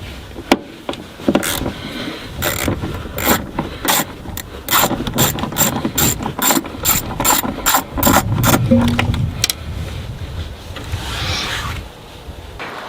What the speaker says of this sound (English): we're gonna use the spanner of 8 or the ratchet, whatever you have